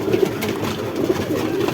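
Domestic pigeons, a recently recovered bird now paired with another, give soft repeated coos at close range against a low, steady background rumble.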